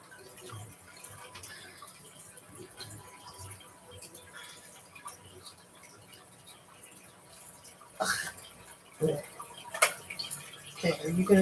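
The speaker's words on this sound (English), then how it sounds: "putting my hands in the fish water" Hands splash and stir in fish tank water at close range, with small drips throughout and a few sharper, louder splashes toward the end over a faint background hum.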